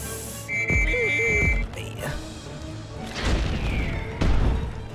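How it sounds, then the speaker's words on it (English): Explosions in the video game Rock of Ages 2 go off as brief booming crashes amid game effects, a couple of dull impacts standing out over a busy background. "Oh no, that explosion hit me"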